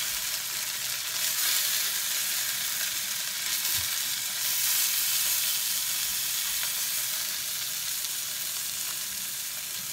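Filet mignon sears in a pan, giving a steady, fairly loud sizzle with a few faint stirring touches and no talk over it.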